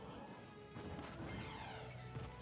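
A forward smash lands in a Super Smash Bros match, one heavy crash with a swishing sweep after it and a fading ring, all set against constant game noise.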